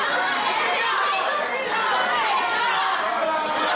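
A wrestling crowd at an independent PPW PowerSlam show rallying behind a wrestler: a constant wash of cheering and chatter from many people, loud and unbroken, with no single voice standing out.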